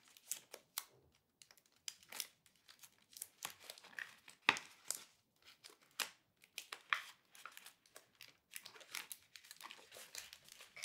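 Tape pulled off and pressed down to seal the end of a homemade rain stick, heard as soft, close crinkling, tearing and rustling in uneven bursts, quiet throughout, with no talking.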